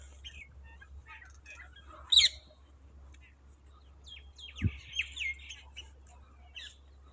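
Small birds chirp and squawk outdoors while being fed pieces of flatbread, short scattered calls near and far with a sharper burst of chirps and a low thump, over a steady low hum.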